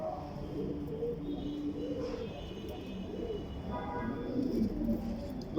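Pigeons coo softly and repeatedly close by, their low throaty calls overlapping, with a voice speaking faintly in the background.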